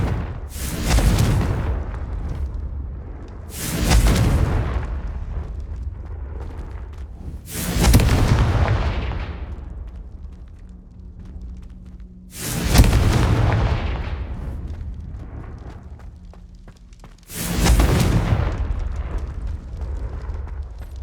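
Confringo spells from Hogwarts Legacy blast five times at roughly even intervals, each a loud, sharp boom that rolls off into a rumbling tail before the next hit.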